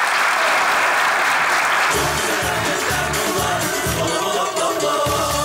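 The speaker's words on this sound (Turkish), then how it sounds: "Alkışlar bu şahane ekibe gelsin." Studio audience applause at a Turkish television comedy show, steady and loud throughout, with a rhythmic low thumping underneath from the midpoint on.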